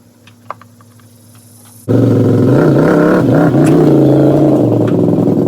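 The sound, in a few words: Can-Am XMR 850 ATV engine while unloading from trailer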